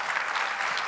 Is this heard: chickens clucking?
no